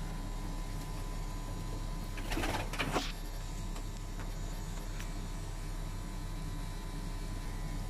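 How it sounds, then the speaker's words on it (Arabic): Newly bought pigeons coo briefly, a short burst of low calls over a steady, loud mechanical hum that fills the whole stretch. No one speaks. "جبت طيور جديدة واليوم حبيت أصور هنا لكم."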